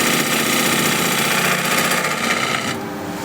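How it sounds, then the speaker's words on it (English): A bowl gouge takes a shear cut on spinning wood on a wood lathe, giving a loud, steady rushing hiss over a motor drone for about three seconds, easing slightly near the end. "So that's another shear cut, push cut, whatever you want to call it."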